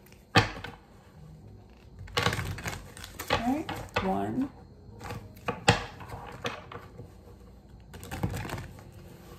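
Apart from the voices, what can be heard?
shuffling tarot cards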